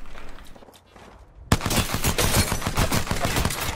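Rapid automatic gunfire in Apex Legends erupts suddenly after a quieter stretch and then keeps going in a dense, loud burst of closely spaced shots.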